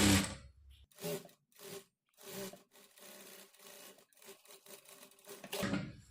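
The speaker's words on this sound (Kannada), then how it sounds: "ಫ್ಯಾಬ್ರಿಕನ್ನು ಫೋಲ್ಡ್ ಮಾಡಿಕೊಂಡು ಎಡ್ಜಿಗೆ ಸ್ಟಿಚ್ ಮಾಡಿಕೊಳ್ಬೇಕು" A sewing machine with a presser foot stitches along a folded fabric edge in short bursts of rapid mechanical whirring, separated by brief pauses, close and fairly quiet with no voices.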